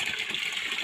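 Steady hiss of water running from a garden supply at a village home garden, continuous and fairly close throughout with no pauses.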